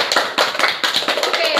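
A group of children clap for a classmate in a classroom, producing a short run of about a dozen brisk, fairly loud claps in quick rhythm.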